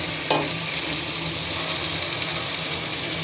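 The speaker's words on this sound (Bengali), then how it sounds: "দারচিনি জিরার ফোড়নে সব কিছু কষিয়ে নিচ্ছি সুন্দর করে" Sliced onion, ginger, garlic and spices sautéing in a cinnamon-cumin tempering for a spiny eel curry, a steady sizzle with a brief clink of a spoon near the start.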